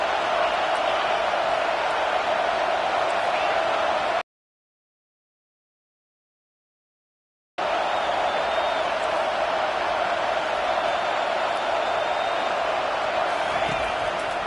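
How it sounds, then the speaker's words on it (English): A simulated stadium crowd roars on third down during an LSU at Texas A&M college football video game, a loud, steady wall of cheering broken by a few seconds of dead silence. "3rd down, and this crowd will blow out a vocal cord to help this defense."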